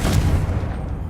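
Confringo fire spell explosion in Hogwarts Legacy, a loud low rumbling boom lasting about a second, alone.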